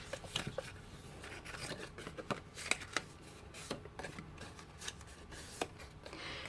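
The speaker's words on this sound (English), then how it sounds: "go ahead and just fold in on every single one of those score lines" A scored card base is folded inward along its score lines, producing soft papery creases and crisp little snaps scattered irregularly over quiet room tone, close and fairly faint with no talk.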